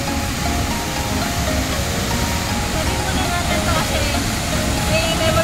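Tuasan Falls in Camiguin roaring as a powerful waterfall, a loud, steady, dense wash of rushing water close by with no pauses.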